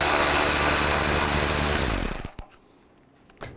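A power driver runs loud and steady for about two seconds, backing T30 Torx screws out of the radiator on a 2005-2010 Volkswagen Jetta, then winds down and stops, followed by a couple of light clicks and a brief clatter.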